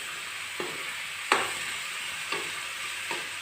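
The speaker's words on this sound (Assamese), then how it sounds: "এতিয়া এইখিনি অলপ সময় ভাজিব লাগিব।" Cinnamon fries in oil in a pan for an Assamese fish-head ghonto, giving a steady close hiss of sizzling broken by a few sharp clinks of stirring.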